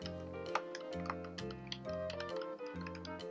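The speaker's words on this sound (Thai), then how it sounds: "จะเป็นเรื่องของเสียงแป้นพิมพ์ค่ะ ตัว KC80 จะมีเสียงปุ่มกดที่ดังกว่านะคะ" Typing on a Logitech K480 Bluetooth keyboard with louder keys: quick, close, clicky keystrokes tapping in an uneven rhythm over a tonal, music-like background.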